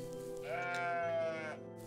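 Stock RPG Maker swamp sheep bleat in the game OneShot, a single loud wavering baa lasting about a second, heard alone against quiet background music.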